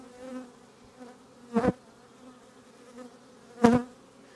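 Honey bees hum steadily at an open hive during a heavy nectar flow, a soft continuous drone close by, with two louder buzzes as single bees pass right near the microphone.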